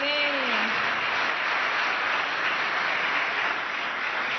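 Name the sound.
applause for visiting youth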